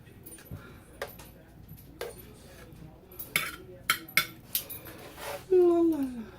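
Carrots and green beans being plated, with a utensil scraping and clinking sharply against the dish in a string of separate knocks, then a longer scrape near the end.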